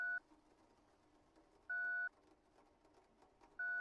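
Three identical electronic beeps in the horror video game Dispatch, each a clean steady tone lasting about half a second, spaced roughly two seconds apart over quiet low background noise.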